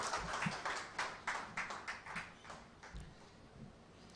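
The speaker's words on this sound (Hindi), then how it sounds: "अंकित सर के लिए जोरदार तालियां" A small audience at a kavi sammelan for Utkarsh Classes, Jodhpur, claps to welcome history teacher Ankit Sir, giving scattered, uneven hand claps that come in soft bursts, fairly faint and without voices.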